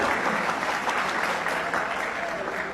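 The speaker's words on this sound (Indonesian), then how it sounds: "Kok tepuk tangan kenapa?" Listeners at a religious talk on preparing for marriage break into steady, moderately loud clapping, a continuous crowd texture with no clear voice over it.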